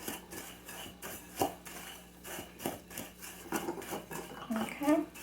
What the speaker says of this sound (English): you just want to keep stirring it, and you're going to start to add some bourbon